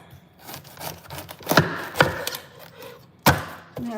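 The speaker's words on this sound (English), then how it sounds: "Just chopping some of the sides." A knife chops taco side ingredients on a board, a few sharp, irregular chops standing out above softer scraping and handling noise nearby.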